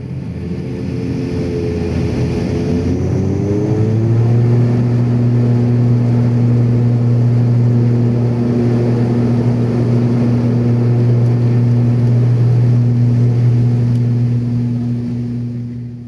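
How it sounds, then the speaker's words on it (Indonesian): Airplane engines drone loudly and steadily, their pitch rising and settling into a powerful, constant roar as the aircraft takes off from Maumere for Labuan Bajo. "kini saatnya pesawat take off menuju ke Labuan Bajo"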